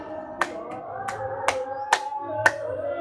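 A handful of sharp, unevenly spaced hand claps cut through background voices and room noise during a fuchka (panipuri) eating challenge.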